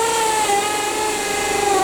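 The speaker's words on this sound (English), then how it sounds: "if you're wondering why the hammer action is on, it's because the driller's broken" A broken drill run with hammer action engaged gives a steady, loud mechanical whine with a rattling buzz, continuous throughout and close by, with no speech.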